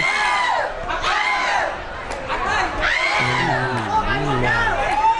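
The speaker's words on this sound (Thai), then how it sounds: "กองเชียร์เสียงผู้หญิงโอ้เยอะลั่นไปหมดนะครับ" At a women's Muay Thai bout, a loud crowd of female fans shrieks and cheers in rising, overlapping whoops, high voices wailing continuously close by with a lower shout joining near the end.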